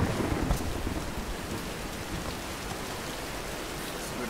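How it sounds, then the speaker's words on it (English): Steady rainstorm with thunder in the video game Tomb Raider, a dense wash of rain noise with a low rumble that is strongest at the very start and then settles into a continuous downpour, with no talk. "let's wait out the storm"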